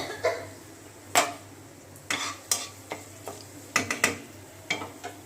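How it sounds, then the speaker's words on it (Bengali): Cumin, whole garam masala and bay leaf hit hot oil in a pan, giving a soft continuous sizzle broken by a series of sharp stirring clicks and scrapes, close and fairly quiet. "তেলের মধ্যে আমি দিয়ে দেবো একটু জিরে সামান্য, আর একটু গোটা মশলা, গোটা গরম মশলা দিয়ে দিচ্ছি, তেজপাতা"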